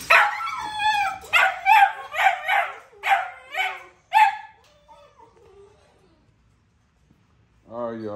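Several dogs in a kennel bark in a quick run of loud, close barks, then go quiet before another short burst of barking at the end.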